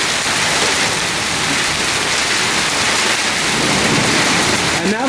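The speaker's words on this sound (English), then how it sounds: "I've never seen it rain half this much. And it keeps coming down harder." Extremely heavy rain pouring down in a severe storm in the Dallas-Fort Worth area, a loud, dense, unbroken roar of water hitting surfaces throughout, close and overwhelming.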